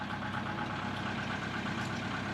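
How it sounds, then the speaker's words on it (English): Steady, unbroken engine idle from a DYNA rental machine just after starting, a constant low rumble with no voices. "After the engine is started"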